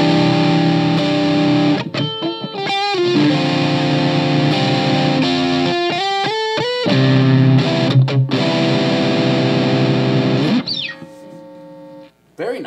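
Distorted electric guitar, a Charvel Pro Mod San Dimas Style 1 on its middle pickup, plays loud sustained chords and quick note runs, with brief pauses and a final bend near the end.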